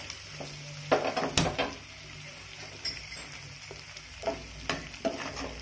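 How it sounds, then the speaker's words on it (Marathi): Edible gum pieces frying in hot ghee for dry fruit laddoos, giving a steady close sizzle with irregular crackling bursts and a few clinks of a stirring spoon against the pan. "मी तुपामध्ये थोडा थोडा डिंक टाकून तळून घेणार आहे"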